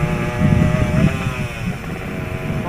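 A motorcycle engine hums steadily nearby as throttle is applied, a low droning tone swelling slightly, then settling, with some wind noise mixed in.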